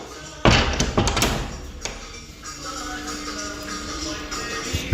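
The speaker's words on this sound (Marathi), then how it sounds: "थोड्या वेळा दरवाजा उघडं केला होता आता बंद करून घेतली" A door in a home is pushed shut on a rainy monsoon day, giving a sharp, close thud followed by a second knock a moment later. A soft, steady indoor background continues afterward.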